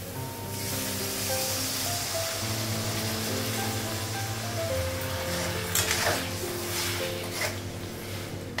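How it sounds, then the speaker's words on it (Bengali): Mustard paste water poured into a hot pan over a raised gas flame, giving a steady, fairly loud hiss that runs for several seconds with a faint tonal hum underneath and no talking. "গ্যাসটা বাড়ানো, সর্ষে বাটার জলটা লাগানো"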